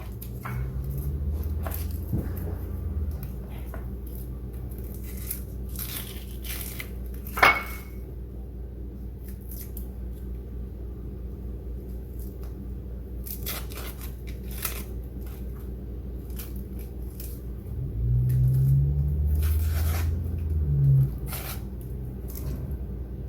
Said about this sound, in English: Get those onions cut up into about 1-inch pieces.